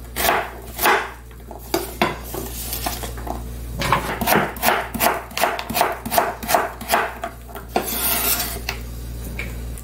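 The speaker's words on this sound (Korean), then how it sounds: "자, 이 정도로 잘라 넣겠습니다." Knife chopping vegetables for Korean blood sausage beef soup, a run of steady close cuts on a cutting board with a rhythmic knock-and-scrape pattern, loud and alone without talk.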